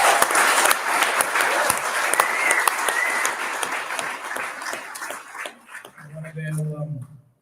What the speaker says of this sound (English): everyone give DArren Bergwerf another clap